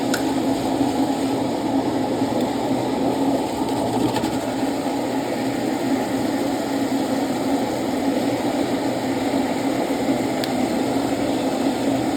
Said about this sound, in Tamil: நம்ம இன்னைக்கு கிரைண்டர் போட்டு அரைச்சிக்கலாம்